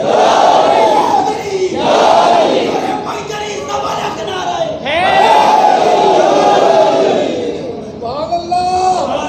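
Loud massed voices at a religious sermon gathering chant slogans in repeated call-like waves, several sustained unison shouts filling the space close by.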